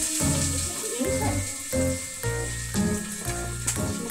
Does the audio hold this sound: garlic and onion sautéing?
yes